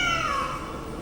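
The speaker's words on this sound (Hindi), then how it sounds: "पालतू बिल्ली" A pet cat lets out a single drawn-out meow, close and fairly loud, with a falling pitch over about a second.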